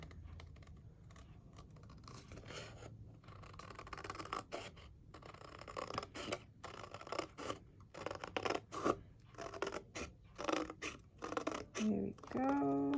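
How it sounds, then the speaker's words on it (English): Scissors snip steadily through paper along a pencil line, producing a quiet run of short crisp cuts and rustles with brief pauses between strokes. "I am cutting on the inside of my pencil line, so not on the pencil line, on the inside of my pencil line."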